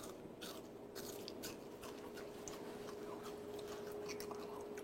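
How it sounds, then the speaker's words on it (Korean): Crisp, freshly deep-fried tempura bitten close up, a run of sharp crunchy bites and chewing over a steady hum of kitchen noise with no talking. "여러분, 이 정도 바삭한 튀김은 먹어본 적이 없을 거야."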